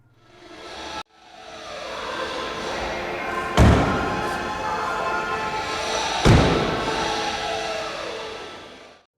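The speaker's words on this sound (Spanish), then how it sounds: "merecía la pena que escucharais el ruido que hacen las puertas al cerrar" Doors of a 2020 BMW 320d slamming shut, two loud solid thuds a few seconds apart over steady background noise, with a softer thump near the start.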